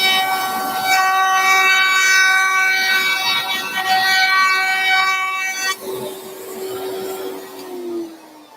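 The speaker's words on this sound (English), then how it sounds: "Back to the router table." A router table runs while routing wood for a table trivet, giving a loud steady high-pitched whine that abruptly drops to a lower hum and then winds down toward the end.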